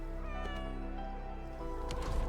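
A cat meows in a drawn-out, wavering tone over a steady electronic music backdrop, close and clear, with a second brief cry near the end.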